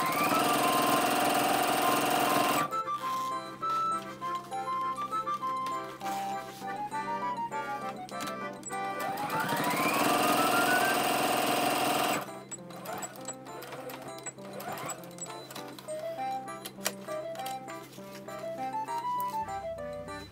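A sewing machine stitches the layers of a Liberty canvas zippered pouch, running in several loud, steady whirring bursts close by, separated by short pauses.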